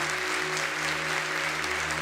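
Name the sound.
applause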